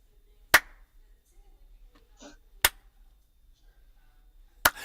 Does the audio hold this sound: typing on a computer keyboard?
no